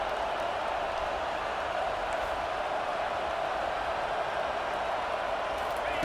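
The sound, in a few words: stadium crowd noise in NCAA football video game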